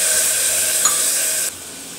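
Water is poured into a hot, empty pressure cooker: a loud, steady hiss of steam rushing out, cutting down abruptly near the end to a softer lingering hiss.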